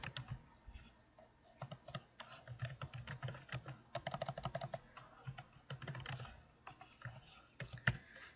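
Fingers tap quickly on a computer keyboard, a soft, close run of irregular clicks with brief pauses, quiet and alone.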